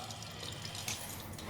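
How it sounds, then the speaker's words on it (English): A toilet tank refilling after installation during a bathroom remodel: a soft, steady hiss and trickle of running water, close and low in level, with no speech. "the toilet's almost done filling up"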